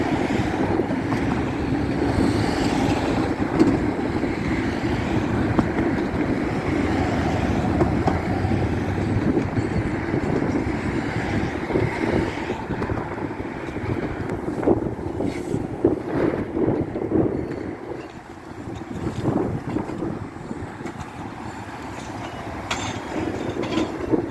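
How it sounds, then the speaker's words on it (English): A freight train with two locomotives approaches through a Chicago rail area, a long continuous rumble and rolling clatter with wind buffeting the microphone, steady and fairly close throughout. "There's a train coming up with 2 locomotives."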